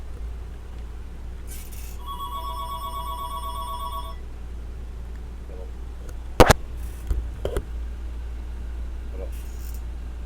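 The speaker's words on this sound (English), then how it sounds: "now I got a phone call" A telephone rings with an incoming call in a quiet space, a bright two-tone electronic ring repeating for about two seconds, followed by a few bumps and handling noises over a low steady hum.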